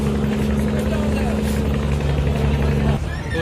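Steady low rumbling engine drone of the passenger launch Kuakata 2 pulling away from Sadarghat river terminal, loud and continuous with a tonal hum, easing slightly near the end amid background harbor noise.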